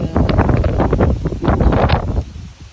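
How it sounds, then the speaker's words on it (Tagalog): Wind gusting outdoors in a garden, rough buffeting rumble against the microphone with rustling bursts, loud and close, easing off toward the end. "It's windy."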